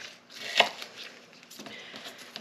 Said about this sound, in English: And then we'll just chop them up.